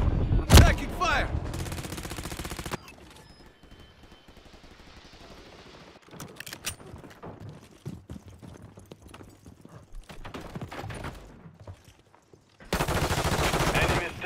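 Rapid automatic gunfire rattles loudly in Call of Duty, a dense sustained burst at the start and again at the end, with quieter scattered shots and in-game voice chatter in between.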